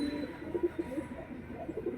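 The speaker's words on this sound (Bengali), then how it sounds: "আচ্ছা এটা কি পায়রা আছে এটা? মুর্শিদাবাদী কালদম।" A male Murshidabadi Kaldam pigeon coos softly and continuously up close, a low, throaty, murmuring rhythm with no talk over it.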